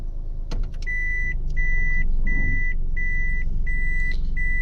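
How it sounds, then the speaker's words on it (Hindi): A car being started and reversed out of a car wash in Malir Cantt, Karachi, with a steady engine rumble under a loud, repeating reversing beep sounding about once a second, close by. "गाड़ी को निकालते हैं बाहर। ये चीज़ और यस, स्टार्ट करो भाई। ये बैक होगी।"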